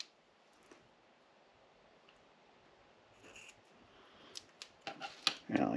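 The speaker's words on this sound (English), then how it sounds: "I actually cut them in half" Rubber skirt retainers for homemade bass-fishing spinnerbaits are snipped in half. After a quiet start, a few sharp, close clicks and cutting snaps cluster toward the end.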